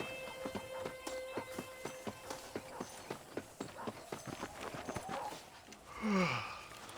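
Horse hooves in the video game Red Dead Redemption, clip-clopping in a steady, brisk rhythm of many close, distinct strikes, ending with a brief snort-like sweep as the horse settles.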